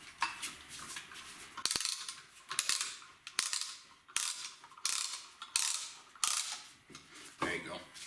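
Repeated ratcheting clicks from a brake caliper piston compressor tool being worked while servicing the front brakes of a 2006-2010 Infiniti M45/M35, coming in several close, loud bursts of clatter with short pauses between them.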